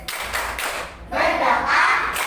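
A classroom of children claps along in rhythm during a 'tepuk sukses' clap chant, with bursts of group clapping and children's voices chanting over them, close and lively.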